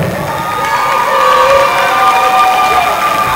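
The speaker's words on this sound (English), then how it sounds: "clap a little again for Oprah" A crowd at a drumline and dance team battle cheers and claps steadily, with shouts and whoops rising over a dense wall of applause that stays loud throughout.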